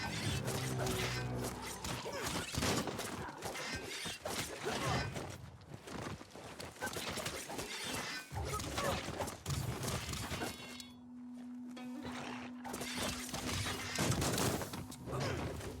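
Gunfire aimed at a samurai in the Biomutant video game, a busy run of rapid shots, crashes and impacts layered with game music and effects, loud and dense with a short lull near the end.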